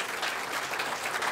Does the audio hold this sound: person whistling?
no